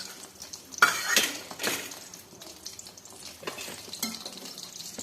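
Potato and pea samosas frying in moderately hot oil, with a bubbling sizzle, an initial splashy clatter as they are moved, then softer stirring sounds.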